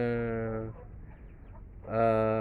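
A brooding pet hen gives long, drawn-out, nasal clucking calls close by, one sustained call, a short quiet gap with soft rustling, then another loud call.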